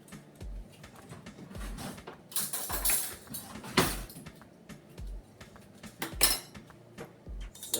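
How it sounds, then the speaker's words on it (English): A metal spoon is grabbed from among dishes and cutlery in a home kitchen, giving scattered clinks, rattles and scrapes with a few sharper clatters, close and fairly quiet. "I'm just gonna grab a spoon."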